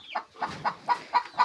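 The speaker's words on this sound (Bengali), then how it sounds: "এটা সোনালি মুরগি আছে বন্ধুরা" Sonali chickens on a small poultry farm cluck close by in a quick run of about six short, evenly spaced calls with no other sounds.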